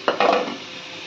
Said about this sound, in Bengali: এবার দিয়ে দিচ্ছি টুকরো টুকরো কেটে রাখা টমেটো, আদা রসুন এবং কাঁচা লঙ্কার পেস্ট